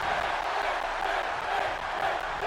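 Steady roar of a rowdy arena crowd in a wrestling video game, a continuous loud cheering wash with faint whoops, sustained for the whole moment without a break.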